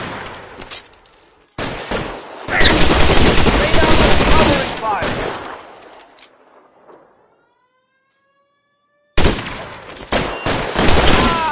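Video game gunfire in L.A. Noire, loud bursts of rapid shots in several volleys with a short near-silent gap before a final burst, voices mixed in with the firing.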